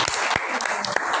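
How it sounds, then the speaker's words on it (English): An audience in Nairobi claps for a female member of parliament, a short burst of scattered, distinct hand claps in a room, fairly close and moderately loud. "Give her a round of applause"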